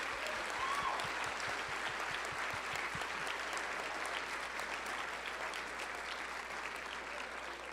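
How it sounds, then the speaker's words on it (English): Steady, sustained audience applause at an Emmy awards ceremony, moderately distant and even in level from start to finish, with no voices over it. "Can we do a really big round of applause for them?"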